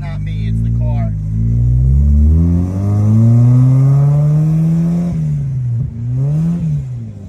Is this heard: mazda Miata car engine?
yes